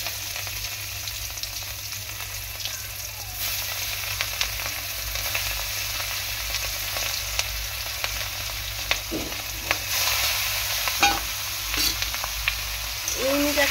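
Tiger prawns fry in hot oil in a wok with a continuous close sizzle, punctuated by sharper spattering bursts and the scrape of stirring toward the end.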